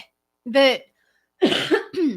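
A person coughs sharply twice, close and loud, with a short pause between the bursts.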